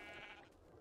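A sheep bleats in the Minecraft Tekkit modpack, one continuous close cry that fills the short moment and fades slightly toward the end, with no talk over it.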